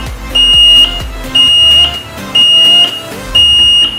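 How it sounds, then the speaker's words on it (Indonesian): A shrill electronic elevator overload alarm beeps in four evenly spaced, sustained tones, each about half a second long, loud and close. "maka alarm akan berbunyi"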